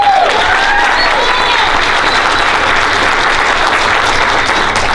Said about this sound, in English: Another round of applause for Nicole